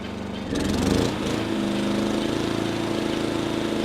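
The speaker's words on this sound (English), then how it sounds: "You can hear the engine working. When it's on economy, you know, it idles way down, and then when the load's put on it, it speeds up." A Honda EU2000i inverter generator engine runs steadily and loudly close by, a continuous droning hum that swells briefly and then holds an even tone throughout.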